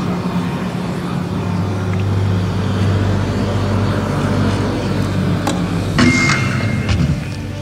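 A ground vehicle drives in the space game Star Citizen, a steady loud engine drone with a low hum, and a few clanks and knocks near the end.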